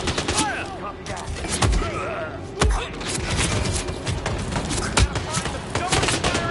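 Dense in-game gunfire from Hitman 2, with rapid overlapping shots and bursts over busy background noise, plus sharp louder cracks standing out at intervals and game voices shouting over the fight.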